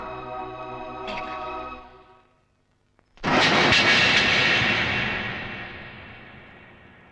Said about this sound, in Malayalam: ഫ്ലൈറ്റ് ഇപ്പൊ പോയി കാണും